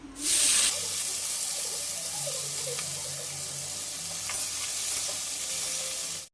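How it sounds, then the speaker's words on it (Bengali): Onions hit hot oil with mustard seeds in a pan for a jackfruit curry, bursting into a loud hiss that settles into a steady, bright sizzle with faint stirring, close up and without talk. "এবার পেঁয়াজগুলো আমি দিয়ে দিচ্ছি"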